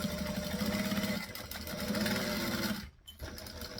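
A sewing machine stitches forward and then back-stitches, humming steadily and close in two continuous runs separated by a short pause, ending with a brief quiet gap and a soft restart.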